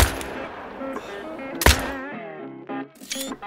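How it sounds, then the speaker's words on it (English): Rifle shot while hunting in theHunter: Call of the Wild, one sharp loud crack in the middle, with quieter game sounds before and after. "I'm gonna take a shot"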